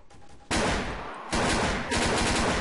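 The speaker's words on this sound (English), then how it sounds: "Tommy gun." Tommy gun in the Garry's Mod video game, firing loud, dense automatic bursts that begin after a brief quiet moment and carry on almost without pause, with only short dips between volleys.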